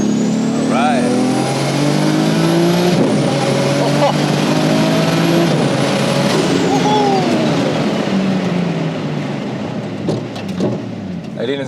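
A 700hp Nissan Skyline R33 GT-R with a sequential gearbox pulls hard, its engine note rising through several quick upshifts before easing off; people talk over it.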